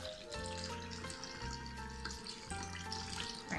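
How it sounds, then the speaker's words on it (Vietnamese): Margarita cocktail poured from a shaker into a glass, a steady liquid stream splashing with a few short pauses and restarts, close and fairly loud, no voices. "Bạn thấy không, vừa đổ một ly."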